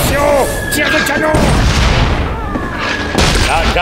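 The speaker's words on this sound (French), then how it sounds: "Tir de canon!" Cannon fire in the Disney Adventures Disneyland video game: booming blasts and crashes under loud game music and effects, with a character voice talking over them.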